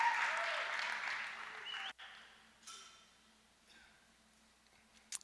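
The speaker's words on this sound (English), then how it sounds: "I like the cheering. Keep it up." An audience at a tech talk claps and cheers loudly, then the applause cuts off and fades to scattered claps and murmurs, with a voice speaking briefly.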